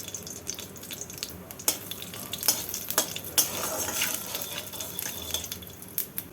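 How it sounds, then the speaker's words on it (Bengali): Dry red chillies and black cumin crackle and sizzle in hot oil, a close, busy frying hiss with sharp pops and spatters throughout. "এর মধ্যে ফোড়নে দিয়ে দেব দুটো শুকনো লঙ্কা আর হাফ টিস্পুন কালো জিরে"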